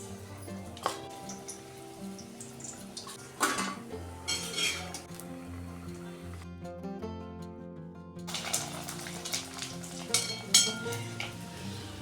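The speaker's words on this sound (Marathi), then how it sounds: "गरम तेलामध्ये आपण भजी सोडून घेऊ." Bhaji, chickpea-flour fritters with coriander and a little rice flour, frying in hot oil, a soft steady sizzle broken by clinks of a metal utensil against the pan and stirring.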